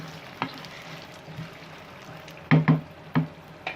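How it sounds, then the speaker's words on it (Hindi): Taro root (arvi) pieces go into hot oil in a pan, giving a low steady sizzle with a few louder crackling bursts and spits near the end, close and with no talking. "अब इसमें हम अरवी डालेंगे फ्राई करने के लिए।"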